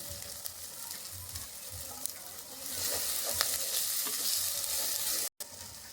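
Ground spice pastes of coriander and cumin, with turmeric and salt, fry in hot oil for a catla fish curry, giving a steady sizzle with soft stirring scrapes that swells louder halfway through, and no talk.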